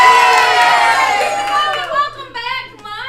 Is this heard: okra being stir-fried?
no